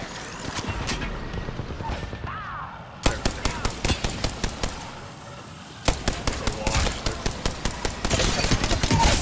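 Rapid gunfire in Apex Legends, with bursts of sharp repeated shots starting around three seconds in and returning in volleys near the end, over a busy game soundscape while players talk.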